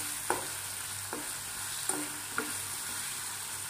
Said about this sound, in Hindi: आलू को हमें फ्राई करना है हल्दी और नमक डाल के।